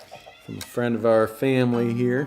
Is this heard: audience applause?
no